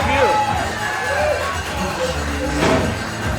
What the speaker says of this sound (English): Good reaction from the crowd so far.